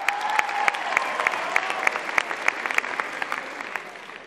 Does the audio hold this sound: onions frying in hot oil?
no